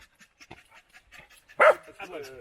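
Hunting dog tracking a blood trail gives one sharp, close bark near the middle, with panting and small whimpering noises around it and a voice speaking softly nearby.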